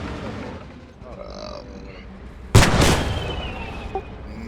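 A tank fires at a Panzer 4 in a combat video game: one loud, sharp blast with a short rumbling tail, then quieter background game noise and a faint later pop, with voices talking low underneath.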